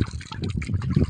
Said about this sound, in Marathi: हे बघा आम्ही ही पाण्यातून चाललेलं आहे बघा